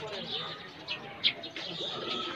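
Birds in the bird section of a large zoo in Kathmandu chirp and call in short bursts over a hubbub of crowd noise, with voices in the background.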